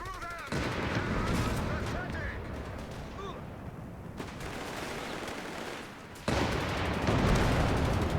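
Dense rifle and machine-gun fire crackles in rapid overlapping volleys during an Afrika Korps campaign battle in Company of Heroes 3, with the action briefly thinning before it resumes loudly, while someone talks over it.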